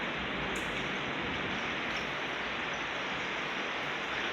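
Heavy rain pours steadily during a thunderstorm in Santa Ponsa, a dense continuous hiss that stays loud and even throughout with no voices over it.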